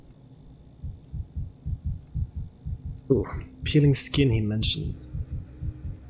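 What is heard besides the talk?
fast heartbeat during examination in Pathologic 3 video game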